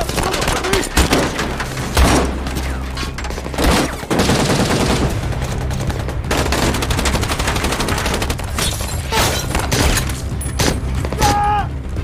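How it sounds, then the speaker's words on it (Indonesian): Intense gunfire rages in a battle scene from the 2019 war film Mosul, with dense rapid automatic bursts, loud booms and impacts filling the whole stretch, and brief voices shouting beneath. "Terjadi baku tembak yang sangat sengit."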